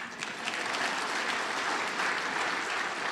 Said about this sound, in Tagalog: pumalakpak mga tao rito